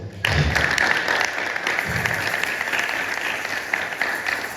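A church congregation at a Sunday service bursts into loud applause, a dense, steady wash of clapping close by that holds for several seconds with no talk over it.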